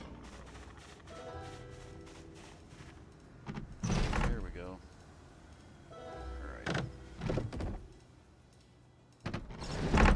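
A door opening in the zombie survival video game Project Zomboid, a loud creaking sweep rising and falling in the middle of the clip, with other game clatter and thuds before and after.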